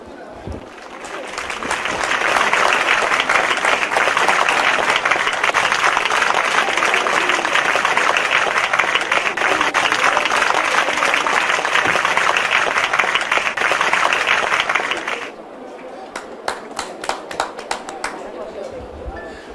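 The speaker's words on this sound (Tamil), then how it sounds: "நல்ல கரகோஷங்கள்." An audience at a stage ceremony applauds, with sustained dense clapping that holds for about fifteen seconds before thinning into a few scattered claps, loud and close, with crowd chatter mixed underneath.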